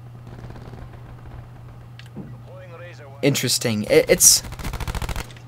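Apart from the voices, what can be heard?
Switchblade X9 gunfire in video game Black Ops 4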